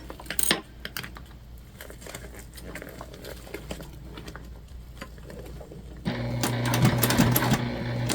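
A sewing machine stitches a side seam on a large fabric bag, running steadily for the final couple of seconds after a stretch of quiet handling noises.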